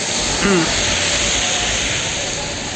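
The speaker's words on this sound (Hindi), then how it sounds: "बारिश हो रही है, बहुत तेज़ बारिश हो रही है" Heavy rain pours at a roadside dhaba on the way to Badrinath, a dense continuous hiss close by, with a short vocal sound briefly rising above it.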